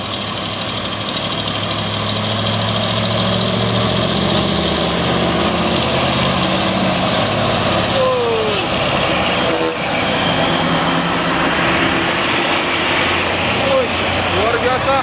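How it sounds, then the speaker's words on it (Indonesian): Heavy dump truck labouring up a foggy uphill road while being overtaken, its deep engine drone steady and loud throughout, with brief voices over the rumble. "Motong dump truk."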